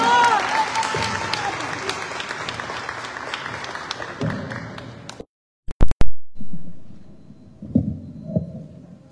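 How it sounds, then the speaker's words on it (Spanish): Crowd applause for a pageant candidate at a national fair ambassador presentation, a few seconds of clapping that fades out, followed by sharp handling knocks and quieter voices. "Marifer, fuerte el aplauso para ella."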